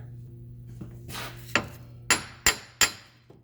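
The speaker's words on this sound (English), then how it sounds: "Alright, we gotta get a hammer." A few sharp metallic hammer strikes ring out, four loud clanks in quick succession after some softer scraping and tapping, during a front wheel bearing hub replacement on a 2009 Subaru Forester.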